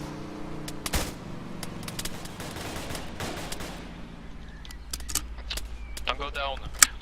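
Gunfire in the Arma video game during a roleplay standoff, with repeated sharp shots and bursts over engine rumble and clatter. French-speaking players talk over the shooting.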